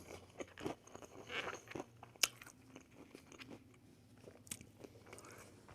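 Someone bites into Panda Express honey walnut shrimp with candied walnuts, giving several close, crisp crunches and chewing sounds in irregular bursts against a quiet room.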